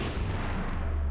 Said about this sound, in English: Really want to test these bombs, and I've actually spent time delaying every single bomb. So they drop like this.